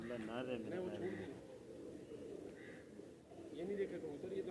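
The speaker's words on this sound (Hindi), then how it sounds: "ये नहीं देखे कबूतर, ये तो नए कबूतर आ रहे हैं" Pigeons coo in soft, repeated throaty phrases on a rooftop loft, close by and fairly quiet, with someone talking over and between the calls.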